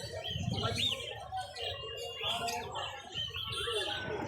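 Lovebirds at a Kolkata bird market chirp in quick, high, overlapping tweets and squeaks, steady throughout, with a voice talking underneath.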